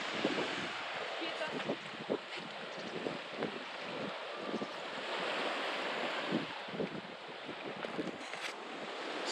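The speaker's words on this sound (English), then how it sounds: "And here we are in Agia Pelagia. Let me show you the beach." Waves washing onto the beach at Agia Pelagia, Crete, making a broad continuous surf hiss mixed with wind buffeting the microphone, with a voice talking over it.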